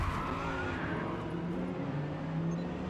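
An Audi R8 GT race car in Forza Motorsport spins around after contact at Yas Marina, its tyres skidding and squealing over a steady engine drone, moderately quiet and continuous.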